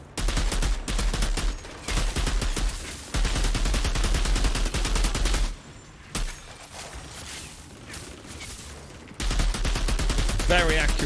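Rapid bursts of gunfire from a gun in a game, sharp repeated shots in dense volleys with short pauses between, loud and close, with someone talking over parts.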